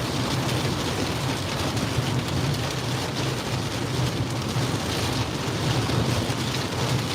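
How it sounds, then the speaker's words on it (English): Strong wind and rain batter the area during a tornado storm in Kansas, a dense, constant roar of gusts and rainfall that never lets up and has no voices over it. "The wind is just ripping."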